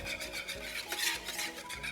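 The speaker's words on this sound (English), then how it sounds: "Then you're gonna mix in all of the butter" Melted butter being mixed into a wet lemon poppy seed muffin batter of egg, a close and steady stirring scrape that rasps and swishes continuously with slight swells, alone with no talk.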